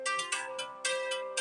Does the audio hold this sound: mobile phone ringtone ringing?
yes